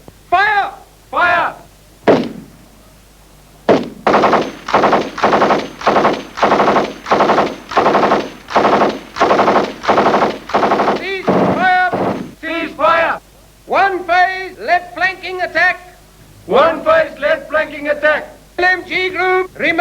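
During army training in the South African Border War era, a light machine gun fires long, loud automatic bursts with hard, rapid rhythm, broken by brief pauses and shorter volleys, with shouted commands in between.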